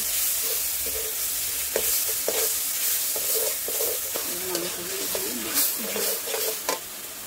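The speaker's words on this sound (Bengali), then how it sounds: "দিয়ে ভালো করে এখন মশলাটা একটু কষাতে হবে।" Spice masala with chili powder and salt being stir-fried over a wood-fired clay oven makes a close crackling sizzle broken by spatula scrapes and clanks against the pan, with no speech.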